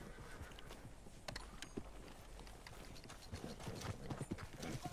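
Hooves clip-clop steadily from a horse in the video game Red Dead Redemption 2, mixed with light mechanical clicks and rattles, moderately loud without voices.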